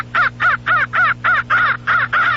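Crow caws projected from a Johnny Stewart transistorized Electrocall crow and varmint caller, eight harsh evenly spaced calls in a quick steady rhythm, loud and clear over a faint electrical hum.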